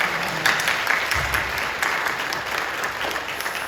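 A church congregation applauds during a service, sustained clapping from a large crowd with a steady, even texture throughout.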